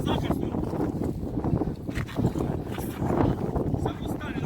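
Strong wind buffets the microphone in gusts at an open-air gathering for the Ramadan cannon in Mostar, with people talking underneath.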